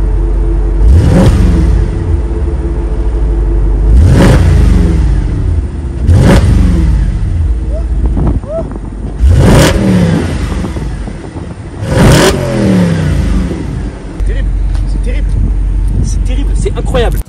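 Audi RS4 with its exhaust valves open, revving hard in a series of five loud, sharp blips with falling rumbles between them, close by, over a steady idle and faint background talk.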